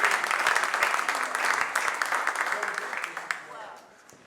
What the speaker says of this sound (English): ladies and gentlemen, a big round of applause for Robin